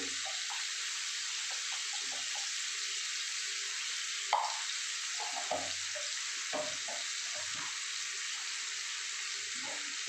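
Hot water pours steadily into a spiced chickpea curry, a continuous bright rushing stream that lasts throughout, with a few faint knocks and a bit of sizzle beneath.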